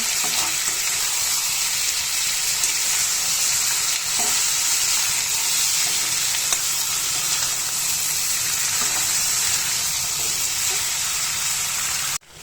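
Pre-fried eggplant is stirred with spices in a hot pan for a boal fish curry, giving a steady, loud, close sizzle that runs unbroken from start to finish.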